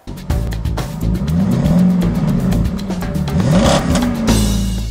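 Ferrari F12 Berlinetta sports car engine revving hard, loud and close, with rising and falling pitch sweeps through gear changes and a crackling rhythmic edge, cutting off abruptly near the end.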